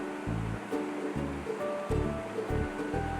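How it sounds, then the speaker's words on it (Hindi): Two to three glasses of water pour into a besan kadhi mixture in a cooking pot, a continuous splashing, gushing stream heard close up with soft background music. "इसके बाद 2 से 3 गिलास पानी हम इसमें शामिल करेंगे।"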